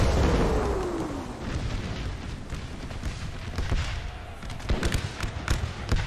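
Civil War artillery guns firing in a Gettysburg battle in Napoleon Total War, with a deep rumbling blast at the start and a series of sharp booms near the end over steady battlefield noise.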